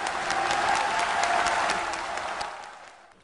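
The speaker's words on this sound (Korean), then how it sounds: "뜨거운 박수로 맞아주시기 바라겠습니다" A studio or hall audience breaks into warm applause to welcome a speaker, a dense wash of clapping with a faint murmur, steady at first and fading toward the end.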